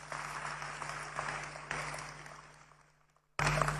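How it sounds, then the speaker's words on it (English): Applause from an audience honoring members of parliament at a Ghanaian National Democratic Congress event, a dense broadband patter that fades gradually over a few seconds, drops to near silence, then bursts back loudly at the end. "A round of applause for our MPs."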